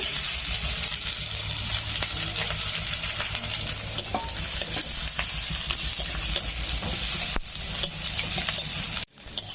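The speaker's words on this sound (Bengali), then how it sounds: "পেঁয়াজটা আমি ভালো করে ভেজে নিয়েছি" Two chopped onions fry in a pan with a steady, close sizzle, broken now and then by stirring scrapes and clicks.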